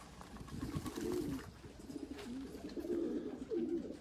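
Racing pigeons at a Dutch loft on a sunny day, coos repeating in soft low rolling phrases, fairly close and quiet against faint background noise.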